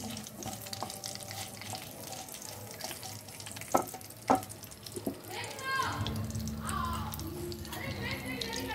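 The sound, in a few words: bay leaves, dried chilli and cumin frying in oil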